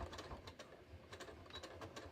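A sewing machine makes a faint, brief mechanical whir and ticking while tacking ribbon down onto the folded hem of jeans at the inseam.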